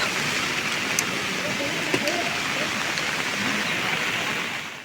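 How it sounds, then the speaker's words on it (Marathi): Dense, steady hiss of heavy rain pours down continuously at a riverside ghat in Kudal, loud and close, with faint voices murmuring underneath. "आता वरून पाऊस लागता जोरात जोरात"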